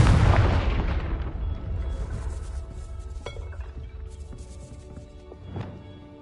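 A Confringo fire spell from Hogwarts Legacy bursts with a loud, deep blast that decays slowly into a rumbling tail, followed by scattered clinking debris and a smaller thud near the end.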